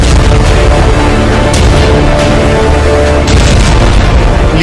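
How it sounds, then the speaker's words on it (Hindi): Hezbollah rocket explosions strike Haifa, a loud, dense wall of booming blasts and rumble filling the whole stretch without a break. "हिजबुल्लाह के रॉकेट धमाके हाइफा में हाहाकार मचा रहे हैं।"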